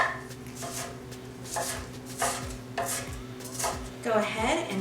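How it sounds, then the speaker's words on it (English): A knife chopping red onion on a cutting board, a series of crisp, close knocks in an uneven rhythm, roughly six or seven cuts spread over a few seconds with brief pauses between. "I'm going to go ahead and cut some of this red onion first"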